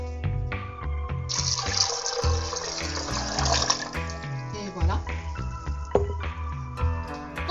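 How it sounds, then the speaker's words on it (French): Tap running cold water into a container for almond milk, a loud filling rush of a few seconds easing off, with someone talking over it. "On va aller se chercher environ 3 tasses d'eau froide."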